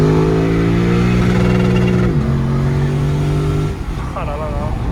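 A Lexus RC F engine roars loud and close, holding a steady high pitch against the rev limiter, then dips briefly before settling again, with a thin whistling note near the end.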